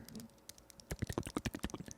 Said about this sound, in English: It literally sounds like somebody's on a keyboard.